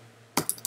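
A few quick keystrokes on a computer keyboard break a quiet room. They come as close, crisp taps in an uneven rhythm.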